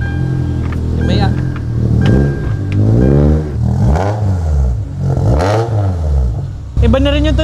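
A Honda car with a K-series engine revs repeatedly in rising and falling sweeps, loud and close, with people talking over it.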